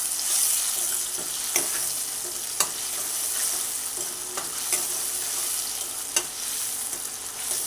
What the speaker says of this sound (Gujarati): સરખી રીતે હલાવી દેવાનું છે